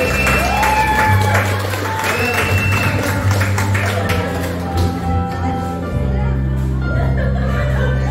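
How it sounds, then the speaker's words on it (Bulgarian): Guests at a child's birthday party clap for a moment amid lively chatter and laughter, with steady background music and a low hum running under the mix of voices and hands. "аплодисменти за Александър"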